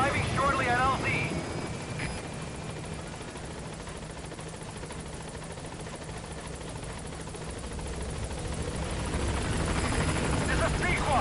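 A helicopter in the Metal Gear Solid V game approaches the landing zone with a loud, steady rotor drone and rumble that swells toward the end.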